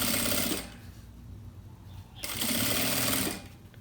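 A sewing machine runs in two steady bursts as it stitches a lining to the main fabric of a child's 2-in-1 bag. Each burst is a close, loud whirring hum, and a brief quiet pause separates them.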